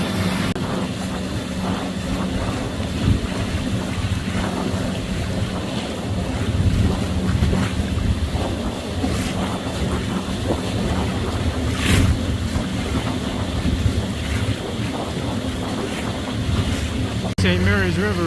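Large freighter ship on St. Mary's River heading downstream toward a small boat, its low engine rumble steady beneath constant wind buffeting and water noise, with people talking occasionally.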